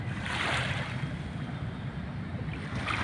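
Sea waves washing onto the Manila Bay shore at high tide, along a strip littered with trash, make a steady, fairly loud broadband roar mixed with wind buffeting the microphone, with no voices.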